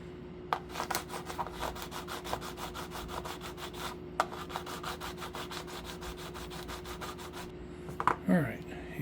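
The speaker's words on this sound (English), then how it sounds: "clean up the top of the rail where I soldered" Abrasive scrubbing on the top of a model railway rail to clear solder, a steady series of rapid, regular rubbing strokes close by, with a few short pauses and a brief clatter at the end.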